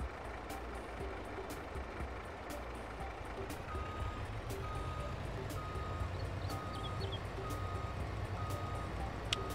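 A milk truck in Farming Simulator 22 reverses with steady, evenly spaced electronic beeps over a loud engine rumble and wind-like noise, with occasional sharp clicks.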